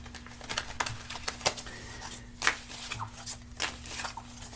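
Playing cards being shuffled in a quiet room, a series of crisp riffling bursts and soft slaps spaced irregularly, fairly close but soft, with a low electrical hum beneath.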